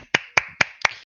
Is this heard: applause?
yes